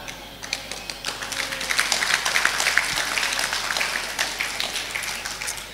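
Scattered clapping and tapping rise from an audience of civil servants at an Indonesian religious affairs ministry gathering in Malang. The claps are irregular and uneven over a few seconds, with no talk.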